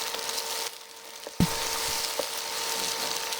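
Chopped tomatoes hitting hot olive oil in a pan, a steady close hiss of frying that jumps louder as they go in, with a few clinks of a utensil and no one speaking.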